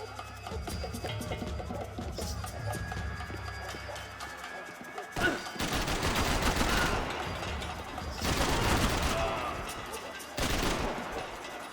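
Gunfire in the video game Max Payne 3: after a quieter stretch, several loud bursts of shots crack out in separate clusters, each dense and sharp, with background game ambience between.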